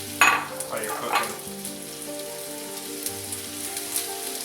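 Onions stir-frying in a hot pan, a steady close sizzle with a few louder scrapes and stirs near the start, no talking over it.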